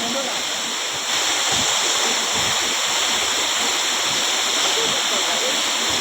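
The steady roar of the Harkul Khurd waterfall at a dam in rural Konkan, a broad unbroken rush of falling water heard close and loud for several seconds, with no clear speech.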